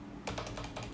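A computer keyboard being pressed, a quick series of crisp, close plastic key clicks over a low steady hum.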